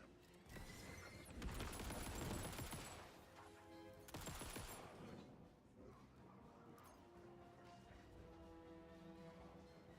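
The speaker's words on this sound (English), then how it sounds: "I heard gunshots." Gunfire from the video game Alan Wake 2 in the Night Springs episode: loud bursts of rapid shots and booms in the first half, then fading to a quieter lingering tail.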